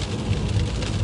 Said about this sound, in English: The drops are like super big and just like smack in the windshield.